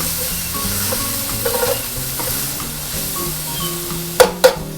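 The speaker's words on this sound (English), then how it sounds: "Swirl my onions a little bit" Onions for a bourbon pulled brisket swirled in a hot pan, a steady close sizzle with soft stirring scrapes, ending in two sharp metallic knocks of the pan.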